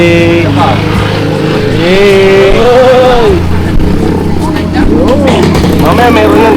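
A motorcycle engine revs up and down in several loud bursts nearby, with a rising and falling tone, while people talk excitedly over it.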